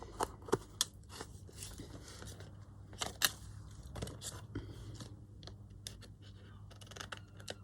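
Scissors cut around a shape in a papercraft project, a series of quiet crisp snips and paper rustles, close and irregular, over a faint background hum.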